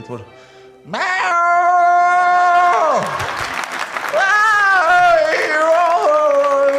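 A stand-up comedian on stage vocally imitates cats yowling in spring, long wavering meow-like wails rising and falling, loud and close, with a crowd applauding and laughing underneath.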